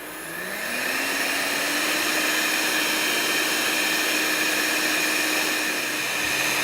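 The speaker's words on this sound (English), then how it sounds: "you will let it beat until it's so foamy it just gets to the top" An electric mixer beats cake batter made with orange juice until foamy, whirring up to speed and then holding a steady, loud, close motor whine with a rising tone at the start, no speech.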